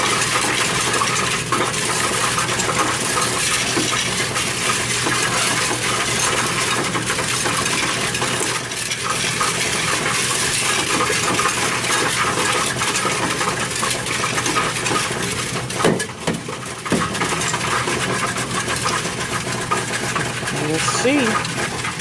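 Everyday pocket change pours into a coin counting machine, producing a continuous loud rattling clatter of coins with a mechanical whir for over twenty seconds, while people talk over it.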